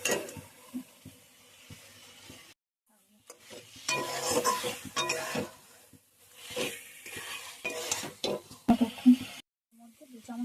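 Chicken pieces fry with onions for creamy Afghani chicken, a close, crackling sizzle broken by repeated stirring scrapes and clinks of a spoon on the pan, with brief quiet gaps and a voice speaking in between.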